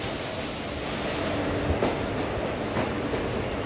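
The Flying Ranee 12922 express train arrives at Udhna station, a steady loud rumble of rolling wheels and carriages with faint clicks from the rails, continuous throughout.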